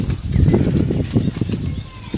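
Pigeons arrive with a close, loud flurry of flapping wings, rapid soft beats rising and falling over a couple of seconds with no talking.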